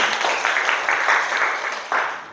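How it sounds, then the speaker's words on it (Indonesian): Applause from a classroom of students for a classmate, a quick run of clapping bursts that swell and fade in waves, fairly close and lively, with a final fresh burst near the end. "Berikan aplaus untuk kawanmu"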